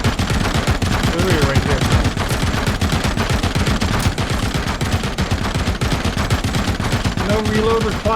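Loud, continuous automatic machine-gun fire from RoboCop: Rogue City, rapid unbroken bursts running nearly the whole time, with someone briefly talking over it.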